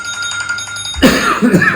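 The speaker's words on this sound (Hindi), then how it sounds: "घंटी बजती है।" Doorbell ringing indoors, a bright bell-like tone sounding briefly and fairly loud after a quieter moment, with a cough or voice sound mixed in.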